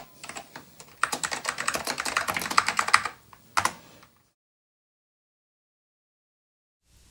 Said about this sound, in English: I actually find typing on this keyboard to be a much more enjoyable experience.